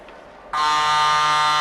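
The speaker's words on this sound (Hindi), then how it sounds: "और हिटर की आवाज" A match hooter sounds after a goal at the Khelo India Winter Games in Leh, a sudden loud, sustained buzzing blast that starts abruptly and holds steady.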